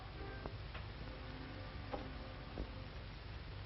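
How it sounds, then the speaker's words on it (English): Alarm clock ticking in a bedroom in an old film, faint sparse ticks under a steady hiss of low-fidelity background noise. "Here's my alarm clock."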